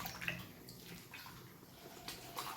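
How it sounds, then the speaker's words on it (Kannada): Leafy greens are swished and rinsed in a vessel of water for a home-cooked Karnataka meal, soft close sloshing and dripping that stays quiet and continuous throughout. "ಈಗ ಹಿಂಗೆ ಸ್ವಚ್ಛಂಗೆ ಎಲ್ಲ ಸೊಪ್ಪು ಒಂದ್ರಾಗನ ಹಾಕಿ ನೀಟಾಗಿ ಅಮ್ಮ ತೊಳ್ಯಾಕತ್ತಾರೆ"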